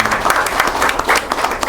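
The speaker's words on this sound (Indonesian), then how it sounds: "Tepuk tangan buat Bang Roji" Dense audience applause at a 2024 ecology discussion gathering held at Joglo Nusantara, a brief burst of many hands clapping together, loud and close.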